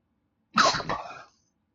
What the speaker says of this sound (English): that's what it sounds like when I try and not sneeze